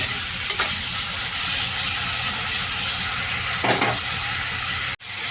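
Tomato pieces with salt fry in a pan, a steady close sizzle and hiss with occasional stirring scrapes throughout, ending in a brief knock.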